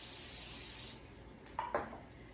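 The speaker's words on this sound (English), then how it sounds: "We're gonna spray it with cooking spray." Cooking spray from an aerosol can hissing onto a cookie sheet in one steady close burst for about a second, then stopping, followed by a couple of faint clicks.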